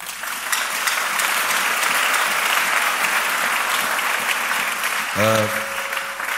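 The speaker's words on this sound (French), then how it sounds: "Acclamons la parole de Dieu." A church congregation claps in applause after a scripture reading, a dense, steady patter of many hands filling the room, ending with a brief sung or spoken tone.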